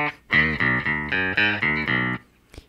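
Baritone guitar in an E-based tuning plays a main riff: about seven loud, distorted, sustained chords in a steady rhythm, each struck cleanly and ringing close, followed by a short pause and one faint pluck.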